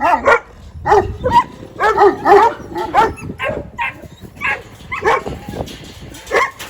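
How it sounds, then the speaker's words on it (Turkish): Kangal dogs barking repeatedly in bursts, several voices overlapping with yips and a few whimpers, loud and close. "köpekler asil de yabancı olduğu için hep havlıyor"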